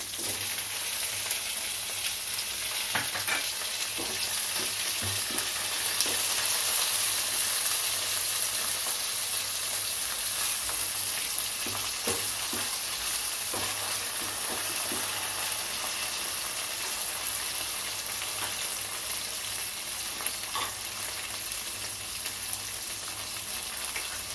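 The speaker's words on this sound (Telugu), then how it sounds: "జీడిపప్పు ముందుగా వేయించుకోవాలన్నాను నేను, అందుకే లైట్గా వేస్తున్నాను." Cashew nuts fry lightly in a pan for tomato rice, giving a steady, close sizzle with soft hiss throughout and a few faint scrapes of stirring, with no voices.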